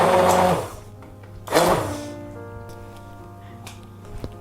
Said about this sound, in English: we'll puree everything with a hand blender.